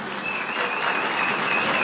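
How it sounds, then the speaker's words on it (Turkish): An audience claps for a poem reading, giving a steady, dense burst of applause throughout. "Yemin ediyorum büyük alkış aldık."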